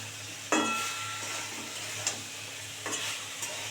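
Cauliflower curry masala being stirred and sautéed in a pan, with a steady soft sizzle under scraping spatula strokes at a few points and no talking.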